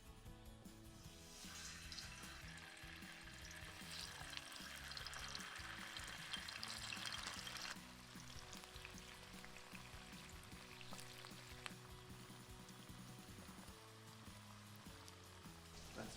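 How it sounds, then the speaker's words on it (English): Tofu pieces frying in hot oil for a Korean braised dish, a steady close crackling sizzle that is fuller for the first several seconds and then settles into a quieter, even bubbling. "So now we're going to throw the tofu into the oil."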